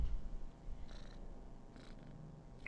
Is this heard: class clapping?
no